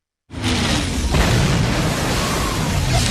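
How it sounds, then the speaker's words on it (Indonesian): A loud, sudden blast of a tank exploding in a war film bursts in after a moment of silence, then a dense roaring rumble lingers for several seconds without letting up. "Di saat sudah semakin dekat, tank itu tiba-tiba meledak"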